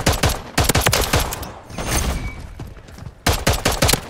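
Rapid bursts of gunfire from Call of Duty: Modern Warfare III team deathmatch, loud and close, with dense automatic volleys, a brief lull of distant shots, then heavy firing resumes.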